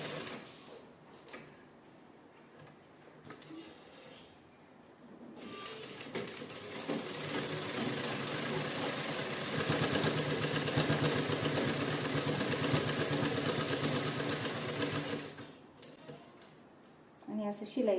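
A sewing machine stitches canvas in one long steady run of about ten seconds, close and loud. Someone speaks quietly before the run starts.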